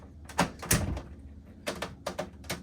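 LG clothes dryer door swung shut on a newly replaced hinge, a series of close plastic-and-metal knocks and clicks in uneven bursts, with a few separate taps trailing after.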